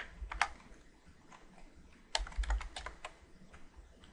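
Bursts of clicking keystrokes on a computer keyboard while HTML heading styles are coded in Visual Studio, two uneven flurries of quick taps with short pauses between them, close and fairly quiet.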